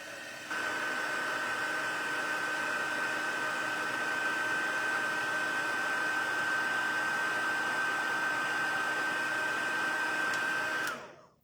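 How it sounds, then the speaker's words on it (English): A heat embossing tool melting embossing powder on a stamped birthday card runs steadily as a loud, close, continuous blowing whir with a faint whine, starting abruptly and cutting off after about ten seconds, with no talking. "And we're going to emboss this."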